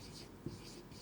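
Pen writing by hand on paper during an accounting lesson, a soft close scratching stroke that is brief and faint against a steady background hiss.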